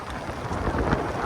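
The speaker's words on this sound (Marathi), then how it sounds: "पाऊस लय लागतोय काय म्हण पाहिजे." Heavy monsoon rain pours at Devkund waterfall in Tamhini, a dense, steady roar of falling water with low rumbling wash, loud and close throughout with no talk.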